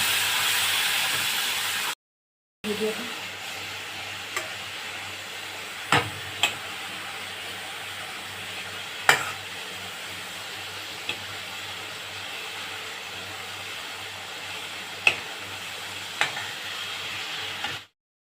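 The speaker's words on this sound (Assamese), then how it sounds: "মছলাখিনি ভালকৈ ভাজি লৈছোঁ।" A pan of spices with red chili, turmeric and a little water sizzles softly and steadily while a spoon stirs, with sharp clicks and scrapes at intervals; a brief cut to silence comes near the start.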